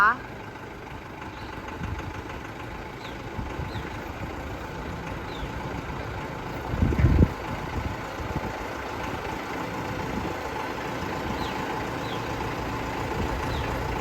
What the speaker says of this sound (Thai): เป็นเครื่องยนต์ดีเซลนะคะ เครื่องโตโยต้า